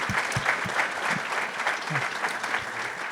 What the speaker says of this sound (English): Y'all, round of applause for our panelists.